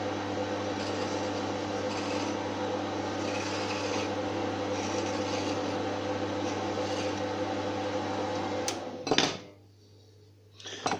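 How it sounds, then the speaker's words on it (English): A hand file rasps steadily along the edges of a machined part, making close repetitive scraping strokes with a constant background hum, then stopping abruptly near the end. "All I need to do is file the edges and make a little chamfer"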